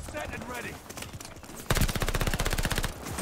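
Rapid automatic assault rifle fire in a Call of Duty match bursts in loud and close after a stretch of talking, a fast, sustained string of shots.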